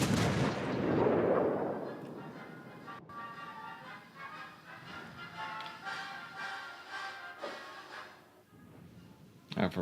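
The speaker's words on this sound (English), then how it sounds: "Warspite's fired a volley on the Ismail" A battleship in World of Warships: Legends fires a volley of naval gunfire, a deep heavy boom rolling out early, followed by scattered distant thuds under a voice talking throughout.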